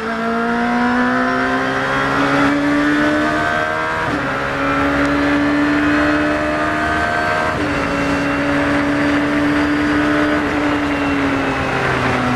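A loud car engine on the Silverstone F1 circuit revs steadily with rising whines, shifting through gears as it accelerates hard out of braking, the roar continuous and close throughout.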